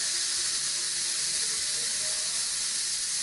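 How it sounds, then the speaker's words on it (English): Steam rushes loudly and continuously from the pressure release valve of an Instant Pot, a broad, even hiss that stays close and unbroken throughout. "Almost done. Get all the steam out."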